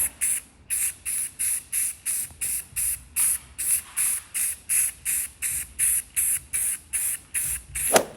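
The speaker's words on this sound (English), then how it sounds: "So basically, we just about to spray that thing. Okay, just spray that thing." Repeated short bursts of aerosol spray paint hissing from a Rust-Oleum can in a steady rhythm, about fifteen quick sprays close up, with a faint sharper hiss at the very end.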